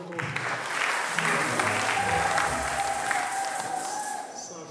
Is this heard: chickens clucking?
no